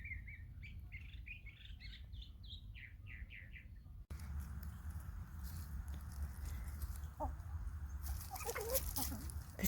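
Chickens in a sunny spring garden give a run of quick, high chirping clucks up close, then quieter scattered calls over a steady low background rumble.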